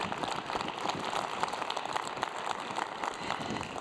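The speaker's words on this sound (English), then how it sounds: "That deserves a round of applause" An audience applauds at a venture competition finale, a steady, dense wash of clapping that holds at moderate level throughout with no talk over it.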